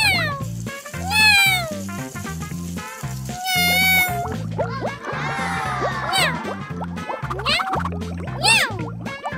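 A child imitates a cat with repeated meows in a Spanish-language children's cartoon, the voice sliding up and down over a bouncy backing track of rhythmic music.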